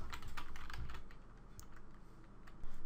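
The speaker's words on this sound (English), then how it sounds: "This can be done by simply typing in a username and a password" Computer keyboard keys tapped to enter a username and password, a quick run of light, irregular clicks close by, with no voices.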